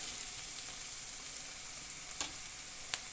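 Salted bell peppers sizzle steadily in a pan as they are stirred, with a constant frying hiss and a couple of faint utensil taps.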